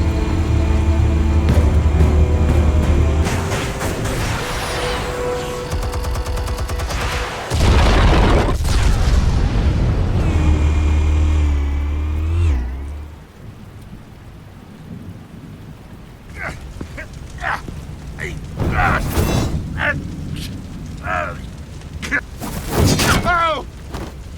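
Explosives detonate in Batman: The Telltale Series as a long, loud rumbling blast with deep booms that roll on for several seconds, then trail off into quieter scattered bangs and crackling debris.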